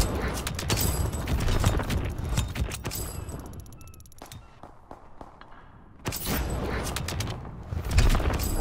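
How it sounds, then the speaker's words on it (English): WWII video game gunfire cracks in rapid bursts and scattered single shots, dense at first, thinning into a quieter gap, then resuming with more shots toward the end. "It's a gun."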